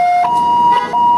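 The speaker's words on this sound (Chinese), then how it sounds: "喇叭也按了，警示器加上车外广播三管齐下" An ambulance siren on a road wails loudly and close, its steady electronic tone stepping between pitches during a short burst while the vehicle tries to get past a sports car blocking it.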